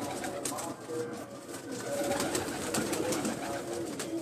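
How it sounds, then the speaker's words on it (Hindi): Pigeons kept on a rooftop coo and flutter in a busy outdoor scene, with steady background noise and brief faint talk mixed in. "ये हमारे गोल्ड इमामदीन के कबूतर है"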